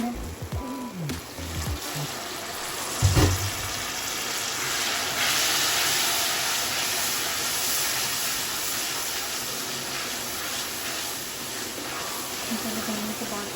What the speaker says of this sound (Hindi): इसमें हम पानी के छींटे लगाएंगे।